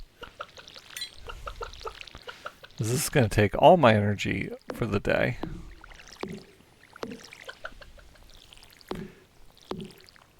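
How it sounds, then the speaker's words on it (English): A watering can pours over crops in Stardew Valley, making a few short splashy pouring bursts amid repeated small clicks, while a voice talks over most of it. "Pre-water everything."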